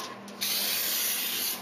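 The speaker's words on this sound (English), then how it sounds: "Use this spray to coat the bottom." Cooking spray hissing from an aerosol can as it coats the bottom of a springform pan for a flourless chocolate mousse cake, one steady close burst of about a second after a brief tap, with no talking.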